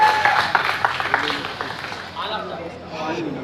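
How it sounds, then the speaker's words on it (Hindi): Audience applause and crowd noise at a film award ceremony, a dense wash of clapping that is loudest at first and then thins, with a voice talking over it. "ताली हो जाते हैं, थोड़ा शोर मचा देते हैं"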